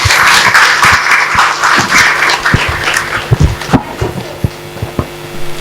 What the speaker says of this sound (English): We've already given her a big round of applause.